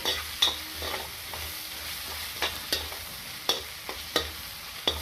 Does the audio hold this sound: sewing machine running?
no